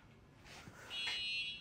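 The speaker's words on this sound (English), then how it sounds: "were you surprised that the fire alarm went off?" Fire alarm going off after being pulled, a loud electronic buzzing tone that starts abruptly after a brief scuffle and keeps sounding.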